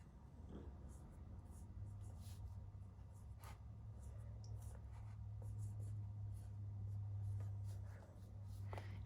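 Pen or pencil writing on paper, soft scratchy strokes in short irregular bursts over a quiet low hum, faint and close.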